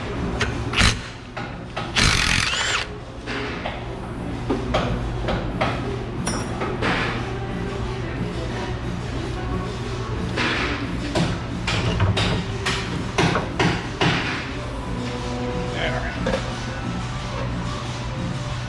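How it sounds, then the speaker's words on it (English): Repeated dull thuds of a rubber dead blow hammer on metal brake parts of a Ram 1500 pickup with a bent rear axle, struck in irregular bursts amid a noisy workshop with faint clinks. "So I've got these rubber dead blows for such things."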